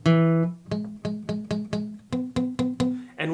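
Guitar chord strummed repeatedly with fingers accidentally muting the strings underneath, giving a string of short, choked, buzzy strums in a steady rhythm, close and fairly loud with no talking.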